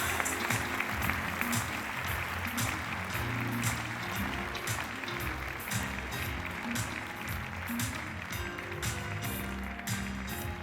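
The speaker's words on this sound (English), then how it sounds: "can I get a warm round of applause for Harald Friedel?" Audience applause at a plant-based conference keynote in Amsterdam, a steady wash of many hands clapping at moderate volume that fills the whole stretch without pause.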